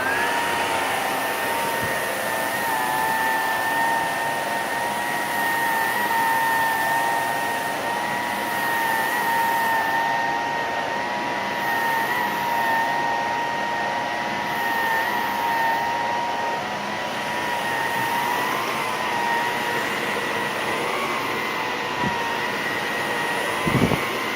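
An Electrolux Olympia One vacuum cleaner runs with its hose stretched out, a steady close whine with a droning motor tone that holds evenly throughout and a small thump at the end.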